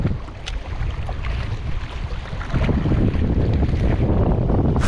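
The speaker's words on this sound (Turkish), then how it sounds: "rüzgar sağ tarafa esiyor" Wind blows steadily and loudly across a shoreline pier at Sığmere during a shore fishing trip for sea bass, buffeting the microphone with gusts that swell stronger midway, alone with no talking.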